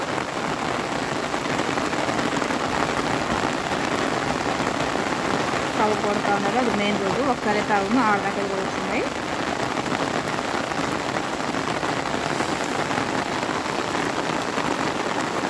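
Heavy rain pours down steadily on a village main road, a dense, even patter that stays loud for the whole stretch while a person speaks over it.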